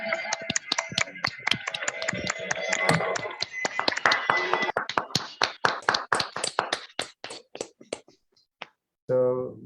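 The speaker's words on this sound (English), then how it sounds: "we will give a big round of applause for the wonderful session that was conducted today" Applause for a session, a burst of many hands clapping at once that thins out into scattered individual claps before fading, with a short voice at the very end.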